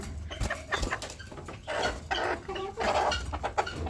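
Several desi (native) hens in a coop, some sitting on eggs, cluck in short, repeated bursts at close range, with soft rustling in between and no talking.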